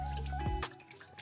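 Water runs and splashes while rice is washed in a home kitchen: a steady pour and trickle that cuts off abruptly midway, leaving a few faint drips and splashes.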